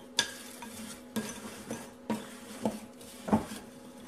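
Cranberries being mixed with sugar and flour for a crisp base, with about six soft, evenly spaced scraping strokes of a utensil against a bowl, close and quiet.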